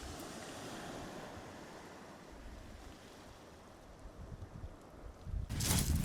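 Ocean waves at Tawharanui Regional Park, New Zealand, a steady broad wash of surf with wind buffeting the microphone, swelling louder near the end as a wave breaks close by.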